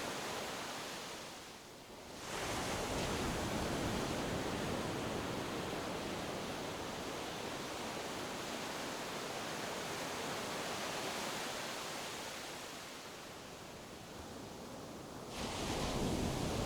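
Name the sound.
soft ocean waves lapping the shore at Unawatuna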